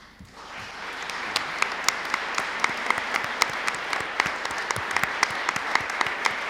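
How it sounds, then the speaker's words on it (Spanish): Congregation at a religious gathering breaking into applause, swelling quickly from quiet into sustained, steady clapping with a few sharp, close individual claps standing out over the dense crowd. "Me hacen el favor de darle un aplauso a Cristo"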